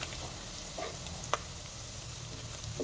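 Onions sizzling and frying in hot oil with raw green chillies and sliced garlic for a traditional Assamese sweet-potato-leaf stir-fry, a steady soft crackle with a few brief sharper pops, no voices.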